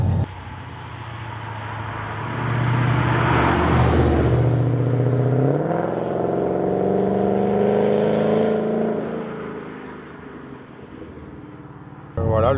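A Ford Mustang GT/CS V8 accelerates hard, its engine note rising in a loud, sustained roar through the gears before easing back to a lower cruising drone, heard from inside the car.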